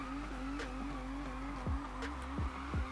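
A car drifting in a tight donut in the racing game NFS Unbound, with a steady engine drone and repeated rising tire-squeal sweeps near the end.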